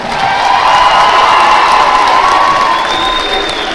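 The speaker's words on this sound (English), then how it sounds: "Give these guys a big round of applause" Big round of applause with cheering and whoops from a crowd at a high school pep rally, loud and sustained throughout, with a whistle-like tone rising near the end.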